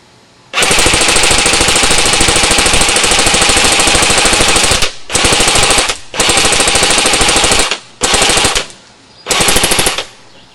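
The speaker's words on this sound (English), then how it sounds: "we'll take a few shots of that target on semi. And then we'll go to a little full auto." A JG AK-47 RIS airsoft rifle fires a long full-auto burst, then several shorter bursts, each a loud, dense rattle of rapid shots. The bursts are separated by brief pauses and no one speaks.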